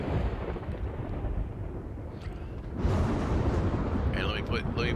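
A rolling, low thunder rumble builds under steady rain in a storm in the video game Grim Harvest, growing louder partway through, with voices talking over it.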